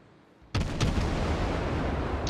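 Naval gunfire from a Tier 4 Izokaze destroyer in World of Warships, a sudden loud blast that opens into a sustained rumbling roar with a few sharp cracks layered on top.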